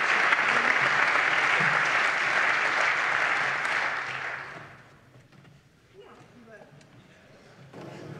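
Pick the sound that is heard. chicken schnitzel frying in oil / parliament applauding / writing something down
parliament applauding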